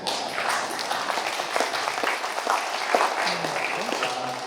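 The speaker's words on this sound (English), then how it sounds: "Let's give them an applause." Audience applause for a sponsoring bank at a community conservation talk, a steady patter of many hands clapping in a room, moderately loud, with a few voices faintly underneath.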